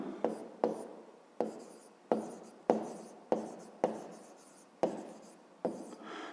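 A pen writes by hand on paper during a maths exercise, with close, distinct strokes and taps arriving in a steady, unhurried rhythm, with no talking.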